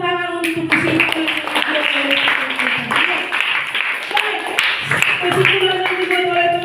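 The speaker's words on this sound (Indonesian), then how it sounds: "kita berikan tepuk tangan untuk kesimpulan" A classroom of students claps together for a classmate's conclusion, steady dense clapping running throughout, mixed with voices and chatter.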